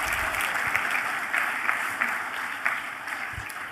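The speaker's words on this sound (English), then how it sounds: "Everybody give your brother Bo a big round of applause" Steady audience applause at a congress gathering, dense and continuous for its full length with a few louder claps standing out, fairly close and with no talking over it.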